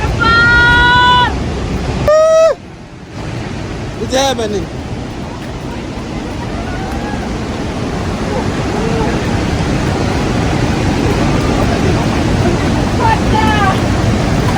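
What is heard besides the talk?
Ruacana waterfall roaring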